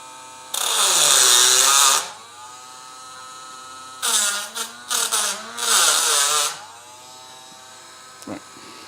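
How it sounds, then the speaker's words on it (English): A Dremel rotary tool whines at a high pitch close by in two separate bursts, a single long run and then a choppy stretch of short spurts, with quiet between them and no talking. "Right, Dremel. Right, stand by. It's going to get noisy,"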